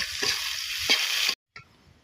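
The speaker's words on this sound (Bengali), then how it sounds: "এবার এইগুলো আমি লাল লাল করে ভেজে নিব" Chopped onion and garlic frying in soybean oil in a pan while being stirred, a bright steady sizzle broken by a few stirring scrapes, then a brief pause and a softer sizzle.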